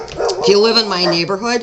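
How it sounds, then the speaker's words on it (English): Dogs bark, yip and whine close by behind a fence, continuous and loud under a person talking. "I apologize for my dogs barking."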